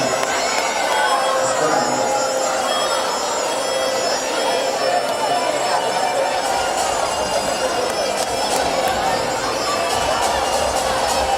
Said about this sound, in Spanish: Ahí está ese aplauso para segundo C